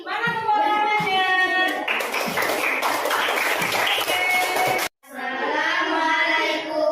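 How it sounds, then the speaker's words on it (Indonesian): Classroom group of students clapping hands in applause, a burst of brisk clapping between stretches of talk from voices, close and fairly loud. "Ayo, kita beri tepuk tangan buat kelompoknya."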